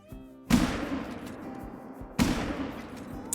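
Two sharp rifle shots ring out at deer in a whitetail hunting video game, each a loud crack followed by a long echoing tail, spaced under two seconds apart, with no talk between them.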